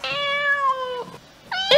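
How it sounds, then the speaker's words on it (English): A cat gives two close, loud meows, a long drawn-out cry and then a shorter one after a brief pause, with nothing else heard. "It's a cat!"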